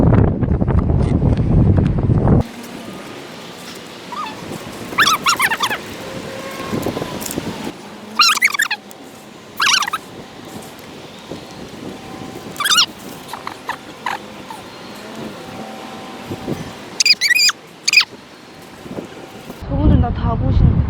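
Strong wind buffets the microphone at a crowded fishing spot during a gale warning, with heavy low rumbling gusts at the start and end and voices talking in the calmer stretch between.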